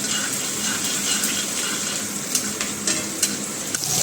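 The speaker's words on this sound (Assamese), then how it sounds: "পিঁয়াজখিনি অলপমান ৰঙা হ'ব লাগিব বেছি ৰঙা হ'ব নালাগে বাৰু" Chopped onions sizzle in a hot pan for an Assamese fish dish, a dense, loud, steady frying hiss with a few soft stirring scrapes and clicks near the end.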